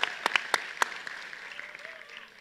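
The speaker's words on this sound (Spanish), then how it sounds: "Un aplauso para Diego." Brief applause for a young participant at a youth talk event, a few sharp claps up front thinning into a soft scattered patter.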